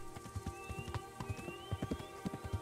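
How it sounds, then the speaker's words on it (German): Horse galloping in the video game Kingdom Come: Deliverance, a quiet, steady rhythmic run of hoofbeats under a faint background music bed. "Das Pferdchen hier hat auf jeden Fall echt mal massiv Ausdauer."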